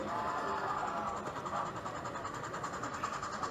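A model Colorado narrow gauge mountain railroad train runs steadily through an Alpine-style layout near a roundhouse, giving a continuous soft rumble with faint wheel clatter, moderately distant and unbroken.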